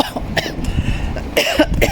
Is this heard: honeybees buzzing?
no